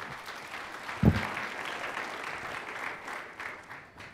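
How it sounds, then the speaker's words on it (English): Applause from a conference audience for a panel speaker on social media marketing, steady clapping from a sizable crowd with one sharp thump near the start, tapering slightly toward the end. "Let's have a big round of applause."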